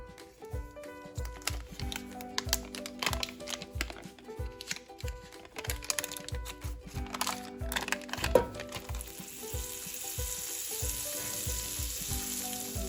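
Butter melts into hot oil in a pan for Alfredo sauce, crackling and sizzling closely with bursts of popping and stirring, settling into a steadier hiss toward the end.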